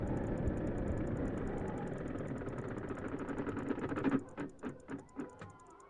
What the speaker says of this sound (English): And listen to the engine stop. I love that noise for some reason.